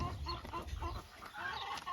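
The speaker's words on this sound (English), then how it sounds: "There's a chicken in there." A hen clucks inside a wooden nesting box on a small hobby farm, giving a run of close, low, throaty clucks in uneven bursts with short pauses between them.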